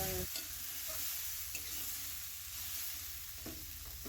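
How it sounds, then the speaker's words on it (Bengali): Spices sautéed with Kashmiri red chilli powder in a pan for a cauliflower curry, a soft continuous sizzle with a few scraping stirs, faint and alone. "দুই থেকে 3 মিনিটের জন্য এটা ভালো করে কষিয়ে নেব।"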